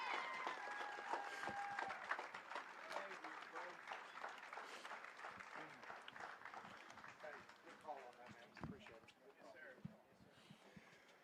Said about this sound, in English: Big round of applause for him right here.